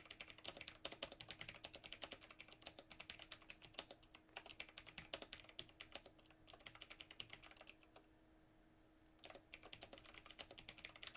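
A quick message is typed on a computer keyboard in rapid, continuous runs of close clicking keystrokes, with a brief pause before the typing resumes, faint and alone.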